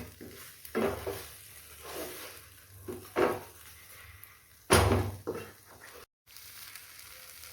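Soya mince sizzles and fries in a hot pan on high flame while a spoon stirs and scrapes in bursts, with a few clanks of utensils against the pot.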